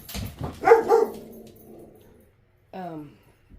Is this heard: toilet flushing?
no